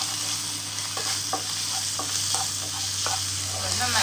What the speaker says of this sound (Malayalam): ഇതിലേക്ക് ഒരു വലിയ സബോള ചെറുതാക്കി അരിഞ്ഞത് ഇട്ട് കൊടുക്കും.